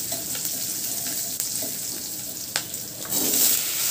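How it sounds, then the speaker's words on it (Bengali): Onions and chilies sizzle steadily in an oil-filled wok, a continuous close frying hiss with a few soft stirring clicks, growing a little louder near the end; no one speaks. "কড়াই দিয়ে দিলাম পেঁয়াজ আর লঙ্কা"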